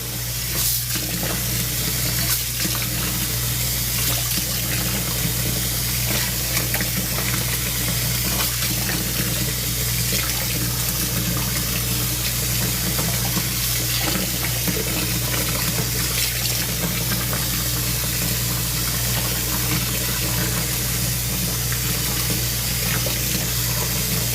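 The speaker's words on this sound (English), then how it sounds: "Add water." Water rushing loudly and continuously from a tap, a dense steady hiss with a low hum beneath, close and without talk.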